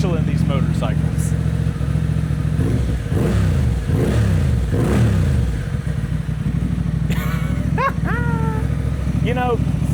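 A Honda CB750 Hornet fitted with a Yoshimura exhaust revs loudly and close up, with several rising and falling throttle blips over a steady engine drone, and a voice briefly talks near the start.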